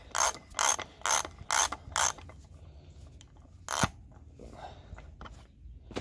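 A socket wrench ratcheting on the front hub of an early Ford Bronco: five quick, loud clicking bursts in a row, a pause, then one more ratchet burst and a few light metallic touches.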